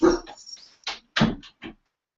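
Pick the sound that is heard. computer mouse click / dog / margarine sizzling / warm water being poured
dog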